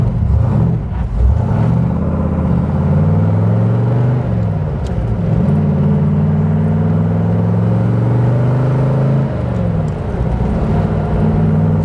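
A Corvette C2 drives along with a steady engine rumble heard from inside, rising in pitch as it accelerates through several gear changes over road noise, with no talking.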